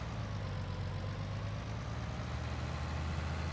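A tractor engine running steadily at a low, even idle in Farming Simulator 19 on an Irish farm, a constant close drone with no speech over it.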